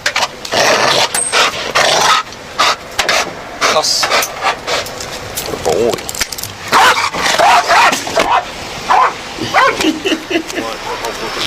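A police drug-sniffing dog barks and growls in repeated bursts close by during a roadside car search, with officers talking over and between the barks.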